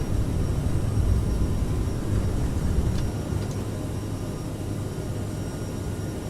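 An airliner takes off in Microsoft Flight Simulator on a Copenhagen to Trondheim flight, giving a steady, broad engine roar and rumble that eases slightly partway through, with no talk.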